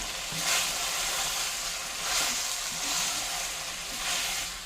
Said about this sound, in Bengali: এখন ভাজা আলুগুলো দিয়ে দিন।